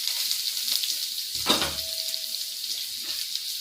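Chopped onion hits hot oil already crackling with garlic and curry leaves, setting off a sudden loud burst of sizzling that settles into a steady, close frying hiss.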